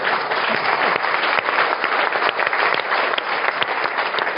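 An audience at a live archaeology question-time event applauds, a dense sustained burst of many hands clapping, loud and continuous with no talk.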